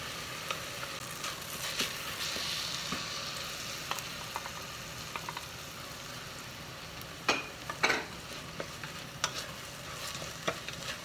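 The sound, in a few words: onion and rice sautéing in a pan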